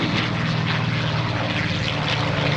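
A North American P-51C Mustang flies past at an air show at Joint Base Andrews, its piston engine and propeller giving a loud, continuous broadband roar with a steady low throb and no voices.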